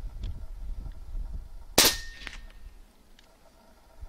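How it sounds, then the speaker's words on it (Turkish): One sharp, close shot from a Wrangler Phenom PCP air rifle fitted with a moderator cracks out, followed by a faint metallic clink, with quiet handling noise before and after. "hadi atalım, şarjör bitene kadar atalım"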